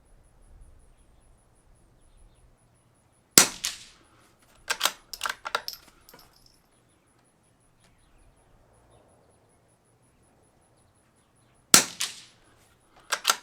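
Sharp rimfire rifle shots from a CZ455 with a Walther barrel firing Eley Tenex ammunition, two loud close cracks several seconds apart, each followed by brief clicks of bolt handling, with quiet between.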